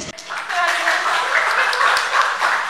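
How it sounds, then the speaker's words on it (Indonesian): Audience applause at a relaxed literary talk show and poetry reading competition, a steady wash of clapping from a crowd that swells after a brief start and holds for a couple of seconds. "tepuk tangan dulu untuk Prof. Minto."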